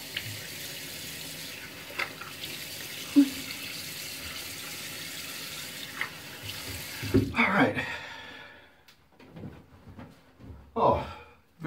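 Running tap water rinses a 5-blade Harry's razor at a bathroom sink, a steady close hiss for about seven seconds, followed by a few sharper splashes and knocks as the razor is rinsed.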